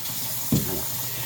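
Tap water runs steadily into a sink for splashing the face, a constant close hiss with one brief louder splash midway, no speech.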